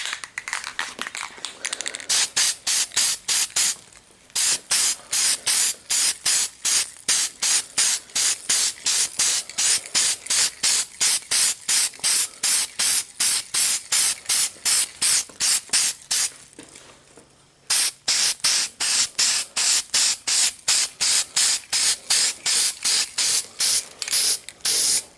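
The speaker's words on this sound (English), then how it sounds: "it's time for another coat of primer" Gray primer sprayed from a can in rapid, regular bursts of loud hiss, each separated by a short gap, continuing for over twenty seconds with two longer pauses and no talk.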